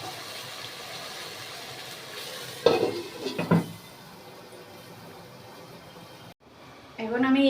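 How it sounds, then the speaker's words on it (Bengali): Aubergine and fish cooking in a pan with a splash of water, with a steady low sizzle and a few louder scraping stirs partway through, then a brief pause before clattering pan handling returns. "আমি এটা ভাজা হতে দেবো"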